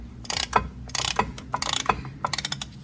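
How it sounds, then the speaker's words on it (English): Ratcheting clicks from a cheap dual piston brake caliper compression tool pushing both pistons back evenly on a 2000-2006 Chevy Tahoe rear brake, heard in three close bursts of rapid metallic clicking with short pauses. "a little Amazon cheapo dual piston caliper compression tool. This thing works really well with these dual piston calipers."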